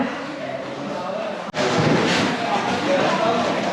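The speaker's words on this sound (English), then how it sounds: "So that was the gun being fired." A cannon fired from a tower in Zagreb, Croatia gives one sharp, loud blast followed by a dense, roaring rumble that fills the rest of the moment, with no talking.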